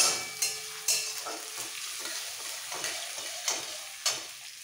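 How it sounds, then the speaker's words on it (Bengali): Onion frying in a pan for a street-style spicy potato dum, with a steady sizzle broken by a few sharp scrapes and clinks of the spoon as it is stirred, close and fairly quiet. "এবার পেঁয়াজটাকে একটু লাল করে ভেজে নেব।"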